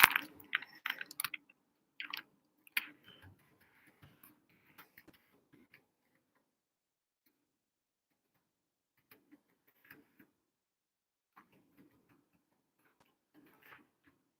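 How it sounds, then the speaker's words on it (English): Computer keyboard keys clatter in quick bursts at first, then thin out into sparse, scattered taps with long quiet gaps. "I'm typing out my message"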